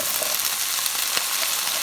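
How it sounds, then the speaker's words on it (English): Drained garbanzo beans fry in a pan for chickpea tacos, making a dense, loud, continuous sizzle close up, with tiny crackles spread throughout and no pauses. "now I drained the garbanzo beans, and I'm going to add them here also"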